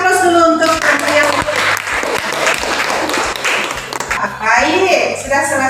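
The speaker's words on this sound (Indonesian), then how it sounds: "kita kasih aplaus dulu untuk yang" A classroom of students bursts into applause for classmates who answered questions about herbicides, a dense run of many hands clapping close by for several seconds, with a voice speaking over the start and end.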